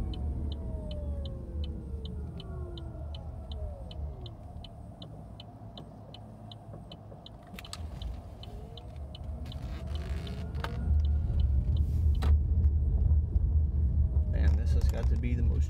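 A Chevrolet Bolt electric car drives along with a low road rumble that grows louder toward the end, a rhythmic ticking chime running through the first half, and a person speaking inside the cabin.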